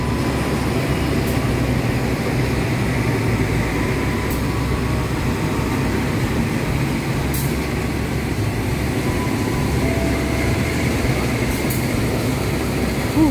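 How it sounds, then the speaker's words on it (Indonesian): A locomotive rolls through Jatinegara railway station in Jakarta, producing a loud, steady low rumble of rail traffic with faint squeals and clanks above it. "di jalur 5 ada lokomotif mau lewat"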